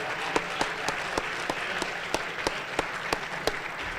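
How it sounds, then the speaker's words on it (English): A crowd at a community brunch gives a round of applause, a continuous wash of clapping punctuated by a few sharper, louder claps at a steady pace. "let's give them a great round of applause again"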